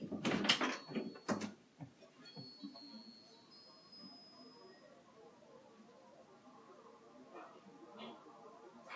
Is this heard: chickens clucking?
no